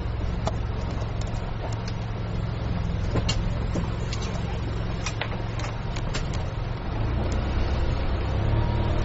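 A dual-mode vehicle pulling away from Hama-Koshimizu station, its engine a steady low drone close by with scattered clicks and rattles over it, continuous throughout.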